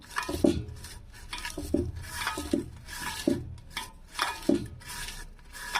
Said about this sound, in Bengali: লবণটা দিলে ভালো করে মাখিয়ে নেব